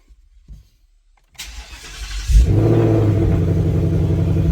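A 2020 Ford Mustang cranks and fires up after an oil change, a short starter whir giving way to a loud, steady idle rumble that carries on alone to the end.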